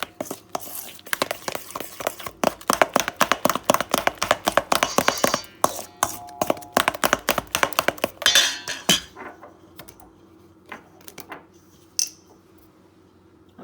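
Cheese pastry dough being mixed in a bowl after baking powder goes in, a quick series of clinking, tapping strokes for about nine seconds, then near quiet with a few soft knocks.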